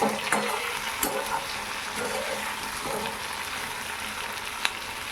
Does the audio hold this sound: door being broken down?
no